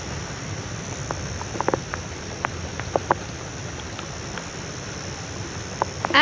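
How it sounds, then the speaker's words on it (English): Scattered light taps patter irregularly against a tent, the first drops of rain at a campsite on North Stradbroke Island, over a steady hiss of background noise. "And the rain has come,"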